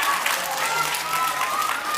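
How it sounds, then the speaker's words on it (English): An audience applauds and cheers for grandmothers at a vacation Bible school opening assembly, a steady wash of clapping with voices talking over it. "Let's cheer it for the grandmothers."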